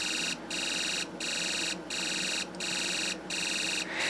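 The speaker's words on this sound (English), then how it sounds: "with the whistle chip in place of the motor, we're now getting more audible output from the alarm IC" A Snap Circuits alarm IC drives a whistle chip, giving a loud, steady electronic tone that pulses on and off about every 0.7 seconds, with no other sound.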